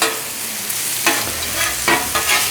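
Onions being mixed and fried on a hot griddle give a steady close sizzle, broken by several scraping stirs of a spatula at irregular intervals, with no voices.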